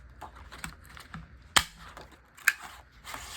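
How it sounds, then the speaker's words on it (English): An old, sticky paper punch cuts a small circle from paper, giving light clicks and rustles, then two sharp snapping clunks, close and quiet. "I'm going to cut the smaller circle first."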